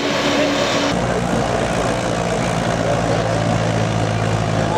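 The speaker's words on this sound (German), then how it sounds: "das Motor muss schon bei ihm arbeiten hier" A Ford 48-30 pulling tractor's engine drones loud and steady under heavy load at a 4-ton tractor pulling event in Zimmerwald, its revs sagging slightly with a deep continuous rumble.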